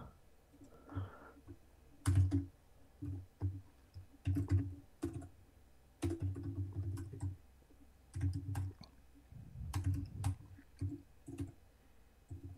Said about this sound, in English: I can just type it into the browser here